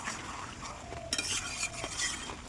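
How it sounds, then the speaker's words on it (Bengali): Onion, ginger, garlic and spice paste being stirred in a pan over a lit stove, a continuous close scraping and light sizzle with a few soft clinks. "এবার ভালো মতো নাড়িয়ে মিশিয়ে নেব"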